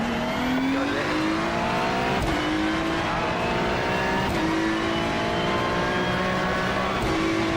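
Race cars in the iRacing sim howl loud and continuous, engine notes climbing and dropping through gearshifts as several cars run close together, with no talk.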